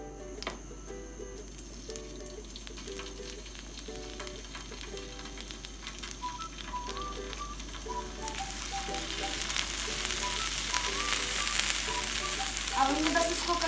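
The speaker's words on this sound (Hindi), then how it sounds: "अब इसको फ्राई करते हैं।" Chicken shashlik frying in hot oil, a steady sizzle that grows louder and brighter toward the end, with faint rhythmic mechanical clicking underneath.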